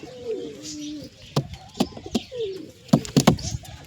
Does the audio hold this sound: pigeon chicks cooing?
yes